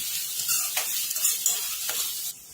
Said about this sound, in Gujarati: હવે તેલ ગરમ થઈ ગયું છે આપણે જીની કટ કરેલી બે ડુંગળી એડ કરીશું અને શેકા દઈશું ડુંગળીને